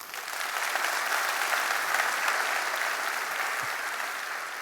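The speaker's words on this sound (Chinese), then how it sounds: "我们给他一个掌声啊！" Steady applause from a seminar audience fills the space, a dense, even wash of clapping that holds at moderate loudness from start to finish with no voices on top.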